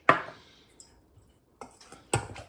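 Marinade sauce for shashlik is stirred in a bowl: a handful of sharp utensil clinks against the bowl, separated by quiet gaps.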